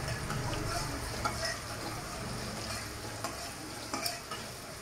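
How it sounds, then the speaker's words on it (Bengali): Boiled potato and cauliflower pieces fry in a pan, with a constant sizzle and repeated stirring scrapes and a few light clatters throughout. "সেদ্ধ করে আমি এবার ফুলকপি আলুটাকে ভেজে নিচ্ছি"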